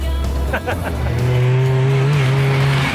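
A rally-prepared car speeds along a narrow Irish country lane in high gear, engine note rising steadily and loud, with a brief squeal of tyres early on.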